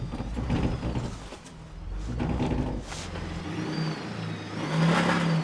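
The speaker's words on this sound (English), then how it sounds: "Back passenger tire stuck, making that noise." An off-road vehicle crawling through Mazourka Canyon, its rear passenger tire stuck, with engine revving and whirring tire strain running steadily throughout, a rising squeal near the end.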